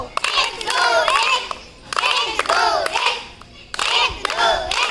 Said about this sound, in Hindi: तो स्काउट ताली चल दो